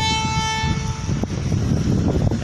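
A legendary Thai passenger train moves past and sounds its horn in a loud, sustained blast over heavy rumbling and wind buffeting. Then the rolling rumble carries on alone.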